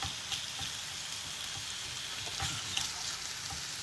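Onion with meat sizzles softly in a little oil in a pan, a quiet and steady frying crackle with a few faint clicks and no voices.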